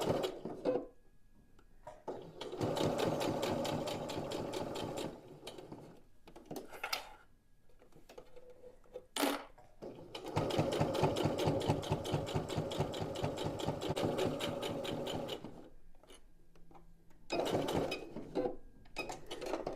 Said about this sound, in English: I'm going to be sewing here next to the interfacing line.